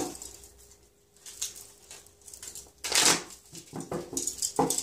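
Tarot cards are shuffled by hand close by, with irregular papery riffles and flutters, some louder slaps and ruffles in the middle and near the end, and no talking.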